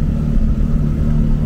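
A Ford Fiesta fitted with a Twister motorcycle engine droning steadily while cruising on a highway, a loud continuous low engine rumble with road and wind noise and no talk.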